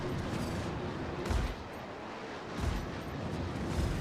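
Shotgun blasts in a space combat video game, several heavy booms spaced a second or so apart over a steady rumbling background.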